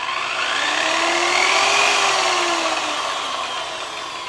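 A power polisher with a bonnet spins on a latex-painted model, a loud close whirring hiss whose pitch rises and then falls as it speeds up and slows down over a few seconds, with no talking.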